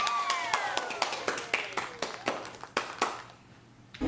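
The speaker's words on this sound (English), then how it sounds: "Everybody clap for the baby." A small family claps for a baby at home, sparse uneven hand claps close to the microphone, with cheerful voices and squeals mixed in.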